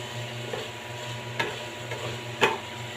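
Ingredients sautéing in olive oil in a pan, a soft continuous sizzle under a low hum, punctuated by a few sharp clicks of a utensil against the pan.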